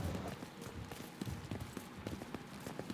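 Footsteps in The Division 2, a steady run of soft thuds under dense background game noise, moderately close.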